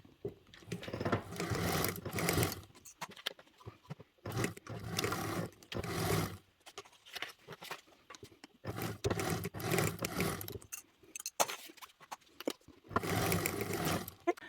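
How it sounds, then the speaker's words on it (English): A domestic sewing machine stitches the short edges of fabric together into a loop at a 3/8 inch seam allowance, running in several loud bursts of steady whirring separated by brief pauses. "we're back at the sewing machine. So we're doing these at a 3/8 seam allowance, sewing the short edges together to create a loop."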